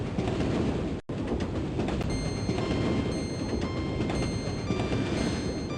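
Train rolling along the rails in a video game: a steady rumbling roar with faint rhythmic clicks and ticks, one brief dropout near the start, no voices.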